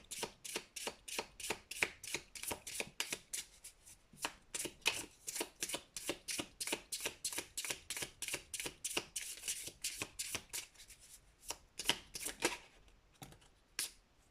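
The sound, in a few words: shuffling and drawing tarot cards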